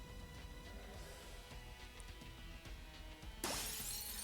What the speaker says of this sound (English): All at once, the frozen creatures shatter like glass.